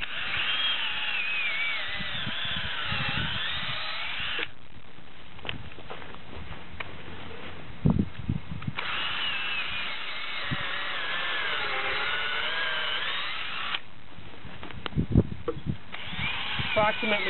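A power drill bores holes about an inch and a half deep into an ash tree trunk, in two loud drilling bursts separated by a quiet pause, with a voice talking between and over them.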